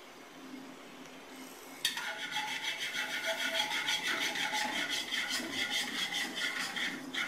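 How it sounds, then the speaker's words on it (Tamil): Gram flour being stirred into sugar syrup for Mysore pak over a low flame gives a steady rhythmic scraping and rubbing of a spoon against the pan, beginning abruptly and continuing at moderate loudness with no talking. "இப்போ கடலை மாவை இதை கொஞ்சம் கொஞ்சமாக கடலை மாவை கலக்கணும்."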